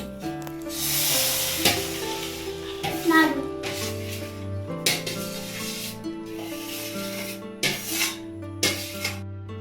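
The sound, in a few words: coconut laddu mixture being stirred and fried in a wok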